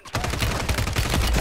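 Rapid gunfire from an online Warzone 3 match, a dense run of loud, close shots firing back to back for over a second with no talk over it.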